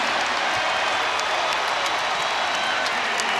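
Basketball arena crowd at a Big 12 men's game, Iowa State against Kansas, roaring and cheering on its feet, a loud dense wall of noise held steady throughout.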